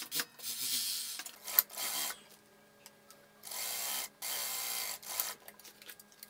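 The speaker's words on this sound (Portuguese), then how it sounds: "E eu vou lá para a máquina overlock passar uma costura aqui no centro costa" Overlock sewing machine stitching the center back seam of a dress, with several bursts of fast whirring stitching separated by short pauses and small handling clicks, close and moderately loud.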